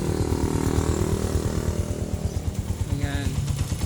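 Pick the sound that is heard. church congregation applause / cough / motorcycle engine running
motorcycle engine running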